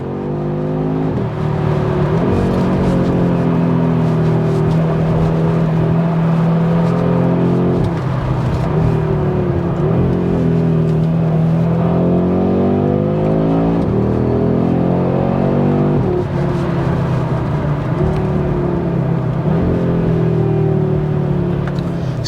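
A loud Audi RS3 2.5-litre five-cylinder engine revs up repeatedly through the gears, pitch climbing and dropping in rising sweeps, heard from inside or close by.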